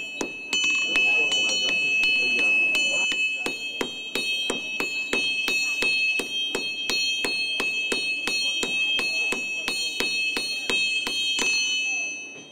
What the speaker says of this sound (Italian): l'arte di piegare il ferro con il martello e il fuoco